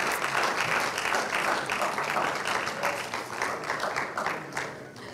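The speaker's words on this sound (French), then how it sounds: "Applaudissez encore une fois pour Monsieur Alphonse Béni." An audience at a film club screening breaks into sustained applause that fills the room for several seconds, loud and dense at first and then gradually thinning out.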